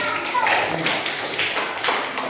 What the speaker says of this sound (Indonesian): jadi tepuk tangan untuk kelompok